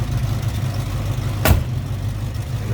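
A 1968 Ford Mustang Sprint hardtop idles with a steady, low, even rumble, broken once by a brief sharp knock partway through.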